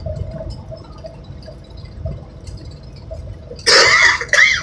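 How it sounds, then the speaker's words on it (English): Quiet, low rumbling road background while driving on I-10 east near Van Horn, Texas, then a sudden burst of harsh lingering post-virus coughing near the end, close and loud. "Cough is still lingering on from that virus."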